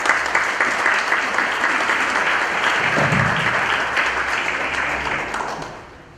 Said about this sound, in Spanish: Demos un aplauso al doctor